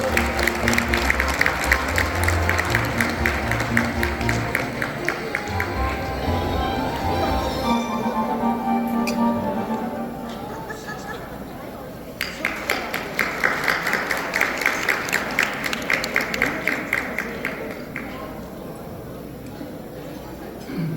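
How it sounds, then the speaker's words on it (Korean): Steady applause from a crowd of people fills the room at a year-end gala dinner, fading briefly in the middle before a second loud burst of clapping, with some talk underneath. "박수로 함께 해주시기 바랍니다"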